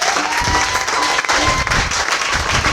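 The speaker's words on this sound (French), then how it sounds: "Est-ce qu'on peut acclamer le roi de Dieu?" A congregation at a church seminar breaks into sustained applause, dense and steady clapping filling the room at close range for the whole stretch, with faint voices mixed underneath.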